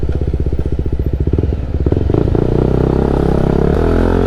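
A Kawasaki NK250 motorcycle with a loud Akrapovič aftermarket exhaust idles with a choppy, lumpy pulse, then revs up into a sustained, rising roar up close.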